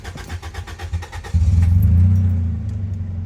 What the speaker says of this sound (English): we're gonna start up the car and see what she sounds like